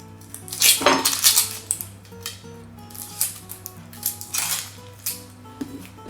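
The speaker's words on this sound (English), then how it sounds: "First of all, we're going to chop the onion." A knife chops through a halved, peeled onion on a flat cutting board, a run of sharp irregular taps against faint background music, close and moderately loud.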